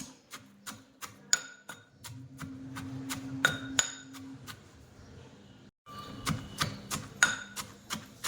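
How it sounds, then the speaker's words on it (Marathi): Green chillies are pounded coarsely for thecha, a series of sharp, close knocks landing at an uneven steady rhythm, with a brief pause before the strikes resume. "अगदी हळूहळू आपल्याला कांडून घ्यायचे आहे जास्त बारीक करायचे नाही"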